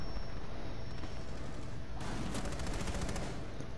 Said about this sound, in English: Careful, you got people shooting at you from three sides.